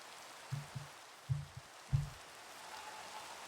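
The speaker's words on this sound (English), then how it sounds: "Can I sleep to get rid of this rain?" Steady rain falls in the Minecraft video game, a soft continuous hiss with a few dull low thumps near the start, with no voices.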